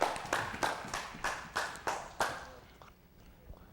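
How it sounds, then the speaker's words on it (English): A single person claps about six times in a steady, even rhythm, fairly close, before the sound trails off into quiet. "I heard that Malcool clap."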